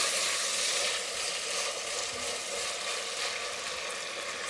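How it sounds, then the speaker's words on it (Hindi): Two tomatoes added to a hot cooking pan with shami kebab and rice and stirred in, giving a steady, even sizzle and frying hiss with faint stirring, close and without talk. "अब इसमें ऐड कर रही हूँ तकरीबन 2 अदद टमाटर। इसको भी आपने मिक्स करना है।"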